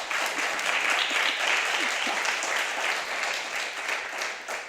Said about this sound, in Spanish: También se merece su aplauso.